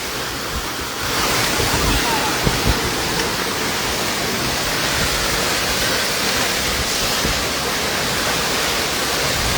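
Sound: tall waterfall

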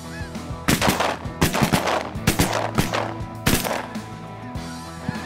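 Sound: shotguns firing at snow geese during hunt

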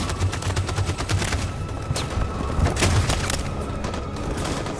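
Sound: gunshots in the video game Detroit: Become Human

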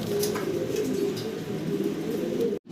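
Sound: shadel racer pigeons cooing

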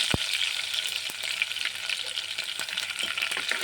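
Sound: curry leaves and garlic sautéing in hot pan

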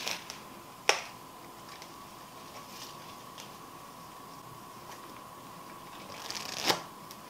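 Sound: deck of playing cards sprung in a LePaul spread

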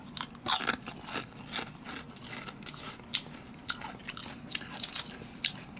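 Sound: biting crunchy vegetable chips

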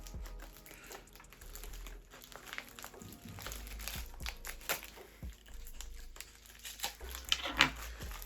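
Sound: opening a lost postal parcel, crinkling packaging

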